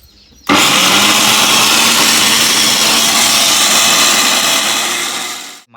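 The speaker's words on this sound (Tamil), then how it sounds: "மிக்ஸி ஆன் பண்ணலாமா" Kitchen mixer grinder whirring at full speed while grinding homemade bath soap ingredients with a little water, switching on abruptly and running with a loud steady roar before cutting off.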